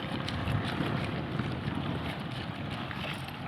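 Strong outdoor wind buffets the microphone in a continuous low rumbling roar, with gusty swells throughout and no talk over it.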